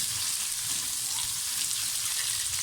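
Onions sautéing in a pan for a tomato and onion vegetable chutney give off a steady, moderate sizzle with soft crackle, continuing unbroken and without any talk.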